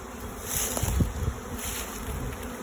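A swarm of honeybees leaving an inspected hive drones in a dense, continuous buzz close by, with individual bees swelling louder as they pass near and fade away.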